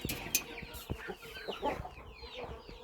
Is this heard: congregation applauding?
no